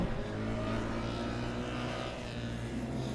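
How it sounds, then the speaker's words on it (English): A Formula Student race car engine accelerates during an endurance final, a continuous buzzing drone at a steady level, heard from a distance over broad crowd and track ambience, with no talking. "Engine sounds much more aggressive now."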